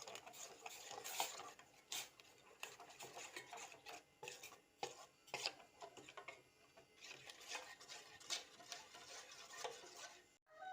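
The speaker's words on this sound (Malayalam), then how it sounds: "എന്നിട്ട് നന്നായിട്ട് ഇളക്കി കൊടുക്കുക." A spoon stirs ragi flour into water for a shake, making soft, irregular scraping and clinking against the bowl at close range, faint and with no voices.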